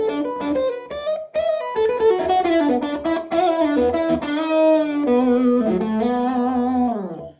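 Electric guitar, an SG Jr or Les Paul Jr with the tone knob rolled off, playing a dark, punchy, mid-heavy distorted melodic phrase that sustains and fades at the end, alone without talk.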